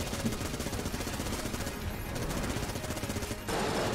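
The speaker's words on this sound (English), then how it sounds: "I have a freaking machine gun that I would like to use" The Vulcan Cannon machine gun in Enter the Gungeon fires a dense, unbroken stream of rapid shots, a loud continuous rattle of gunfire that swells slightly louder toward the end.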